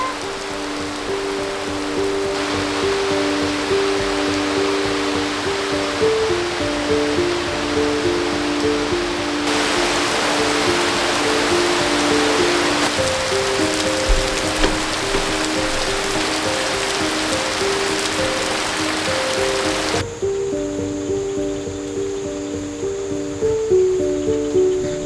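Heavy rain pouring onto a bamboo treehouse, a dense continuous hiss that holds steady for the whole stretch with shifting layers of wash and patter, no voices.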